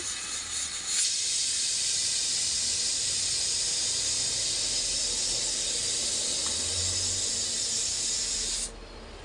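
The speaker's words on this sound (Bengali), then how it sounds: "আমি একটু ধনিয়া পাতা দিয়ে নেড়ে দিব।" Fish head and cabbage curry (macher matha bandhagobi ghonto) cooking in a pan, stirred after coriander leaves are added: a loud, steady broadband hiss and sizzle close up runs almost unbroken for about nine seconds, then drops away at the end, with no talking.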